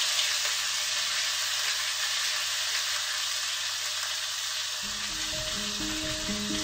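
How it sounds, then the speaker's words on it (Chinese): Fish pieces and okra sizzle in a hot wok during an Assam fried fish stir-fry, a steady broadband hiss with a louder stirring clatter near the end, no talk. "一起炒。"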